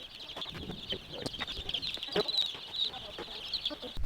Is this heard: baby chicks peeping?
yes